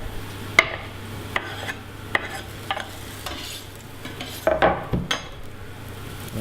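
Garlic stirred and mixed in a cooking pan for a quick tomato sauce: a low steady sizzle runs beneath a series of distinct clinks and scrapes of a utensil against the pan, with a busier cluster of strokes near the end.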